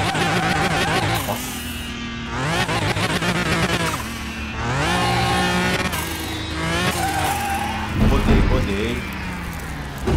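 A BMW fitted with a V12 bi-turbo engine accelerates in a video game, loud engine notes repeatedly climbing through gears with short breaks between pulls, as someone speaks over it.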